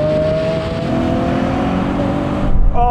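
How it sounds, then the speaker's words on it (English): A Lamborghini Aventador and a 700 hp Audi RS7 accelerate hard in a rolling race locked in third gear, a loud, sustained engine roar climbing steadily in pitch before cutting off abruptly near the end. "now we're going to have a rolling race in sports mode with the cars locked in third gear"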